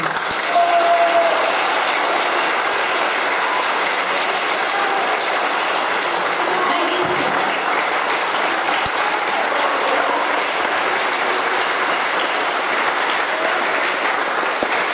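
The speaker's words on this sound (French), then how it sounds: "Donc, Adrien, on peut l'applaudir." Sustained audience applause at a choir concert, dense and loud, clapping steadily throughout with no pauses.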